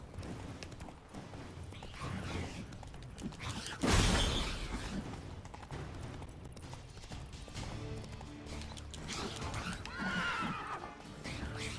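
Roach, the horse in The Witcher 3, whinnies loudly mid-gallop, with clip-clopping hooves, creaking tack and a sharp crash close by, all amid busy game sounds.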